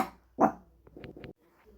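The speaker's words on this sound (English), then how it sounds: "They hear anything and they start barking." A single sharp dog bark, followed by a couple of softer short yips or whimpers close by.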